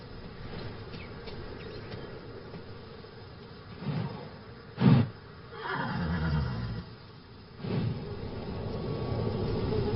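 A horse whinny rings out over a hyena and jackal scene in the African wild, heard in a few separate bursts against steady outdoor background noise with no talk.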